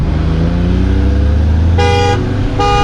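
Two short blasts of a car horn sound over a low idling engine rumble, close and loud.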